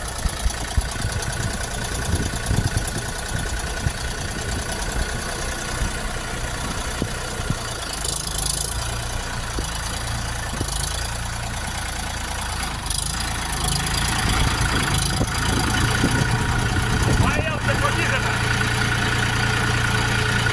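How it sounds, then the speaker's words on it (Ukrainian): A red Xingtai 244 four-wheel-drive tractor engine idles steadily nearby, a low continuous rumble with a mechanical clatter that holds throughout. "Трактор повноприводний з редукторним переднім мостом."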